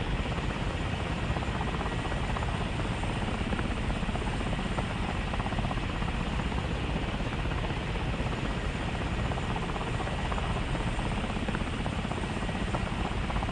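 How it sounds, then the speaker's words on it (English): A Bell UH-1 Huey helicopter flies in War Thunder, its rotor and engine making a loud, continuous, dense roar that holds steady with no talk over it. "The Huey is slow. It's a slow heli."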